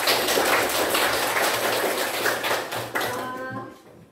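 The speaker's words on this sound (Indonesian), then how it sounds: "Beri tepuk tangan untuk Shalwa, Cinta dan Filipus." Classroom of students clapping for classmates honored for karate achievements, a loud close burst of many hands that thins and fades out toward the end with a faint voice emerging.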